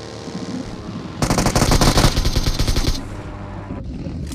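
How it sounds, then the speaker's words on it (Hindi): Rapid automatic gunfire in the mobile battle royale game BGMI, a loud close burst of fast repeated shots lasting about two seconds, then a quieter pause. "भाई किधर से फायर आया?"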